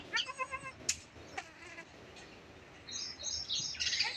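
A goat on a farm gives a quavering, pulsing bleat, followed by faint bird chirps in a quiet outdoor setting.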